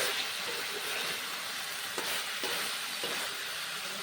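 Ginger-garlic masala fries with salt in a hot pan, giving a steady close sizzle and hiss. A few soft scrapes of stirring break through now and then.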